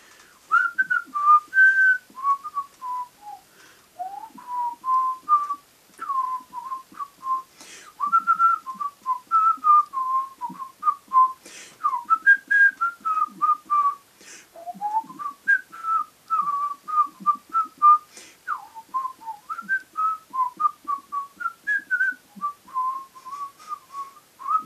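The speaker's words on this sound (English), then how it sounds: "I could just, you know, whistle." Someone whistles a melodic tune at length, clear and close, phrases rising and falling with short breaths between them.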